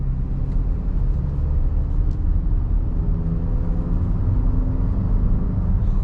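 2025 Nissan Murano turbocharged engine pulling under throttle on the road, heard from inside the cabin as a steady, loud low rumble mixed with road noise, with no talking.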